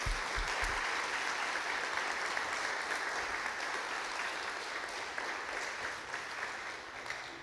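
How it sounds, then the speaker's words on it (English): An audience claps for panelists at a community water summit, producing sustained, even applause from a roomful of people at moderate distance that slowly tapers toward the end. "they all deserve a big round of applause for giving up part of their Saturday"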